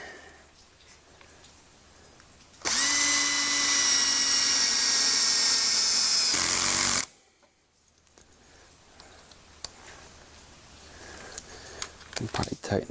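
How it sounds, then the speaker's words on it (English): Power drill driving screws to join workbench parts in a home garage: one loud, steady whirring burst of about four seconds, then quiet handling sounds and small knocks. "Now we're going to screw them together."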